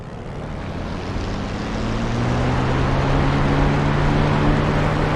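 An aircraft engine throttles up in a DCS or War Thunder flight sim, a loud steady roar with a rising hum that builds in level and holds through to the end.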